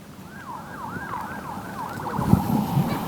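An ambulance siren wails in a repeating rising-and-falling pattern, somewhat distant, carrying victims to a hospital in Nabatiyah, southern Lebanon, over road traffic rumble, with a few thumps near the end.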